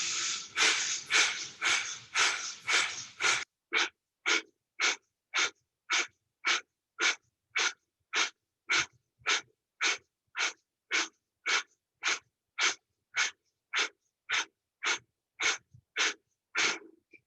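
Rapid, forceful pumping breaths in a yoga breathing exercise, first a quick burst of close, noisy exhales, then a long, even series of sharp breath pulses at a steady rhythm, with no talking.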